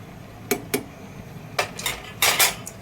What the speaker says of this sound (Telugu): ప్లేట్ మూత వేస్తున్న 10 నిమిషాల పాటు.